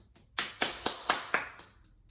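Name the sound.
rain imitated with body percussion hand claps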